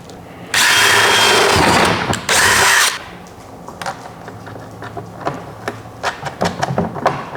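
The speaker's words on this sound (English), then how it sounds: "keep it steady when I'm drilling" A power drill bores a hole to fit a bow motorization kit on a boat, two loud steady whirring bursts up close, followed by tapping, clicks and handling noises.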